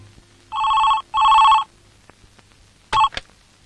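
A telephone rings in two long electronic bursts, then a shorter third begins before cutting off; quiet room tone between rings.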